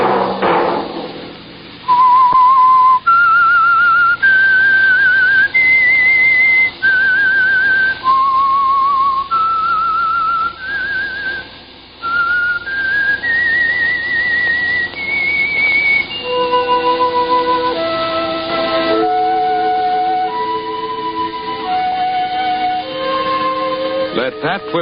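A lone human whistler carries the signature theme of The Whistler radio mystery show, a slow stepped melody of clear sustained notes that later joins soft orchestral accompaniment, loud and close with no talk.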